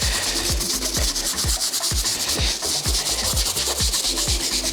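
A detailed wire-tip bristle brush scrubs the grooves of a Jordan sneaker sole in quick, rhythmic back-and-forth strokes, close and loud, with a steady scratchy hiss between each stroke and no voices.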